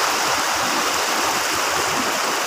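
Water pours through a rubber dam beside the bridge at Mohanpur Bazar in Dinajpur, a steady, loud, close broadband rush that holds without a break and has no voices over it.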